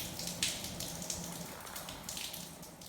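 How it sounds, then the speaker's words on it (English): Water drips from leaking pipes inside a bunker, a steady spatter of small drops and trickling over a continuous watery hiss, fairly close and with no voices. "Are these pipes leaking? Or is that just water coming from up above?"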